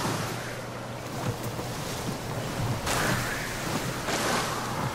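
Ocean waves and wind in the survival video game Don't Starve: Shipwrecked, with a steady rushing wash, a low hum and surges of surf rolling in about every second or so.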